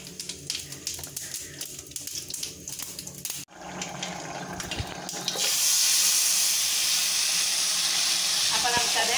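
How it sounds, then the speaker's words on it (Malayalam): A sizzling tempering of curry leaves in hot oil is poured into a pot of pumpkin and bean erissery curry. Kitchen clatter comes first, then a sudden loud, rushing hiss swells and holds steady to the end. "അപ്പൊ നമുക്കത് താളിച്ചത് കറിയിലേക്ക് ഒഴിച്ചു കൊടുക്കാം."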